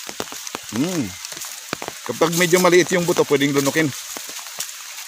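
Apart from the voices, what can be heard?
rain falling on upland farm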